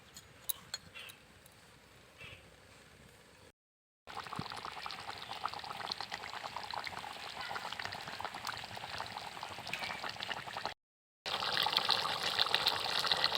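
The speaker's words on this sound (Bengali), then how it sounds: "এবার ঝোলটাকে ভালো করে ফুটিয়ে নেব।" Duck curry gravy boiling in a pot, a steady bubbling wash broken by two brief silent cuts, close and moderately loud.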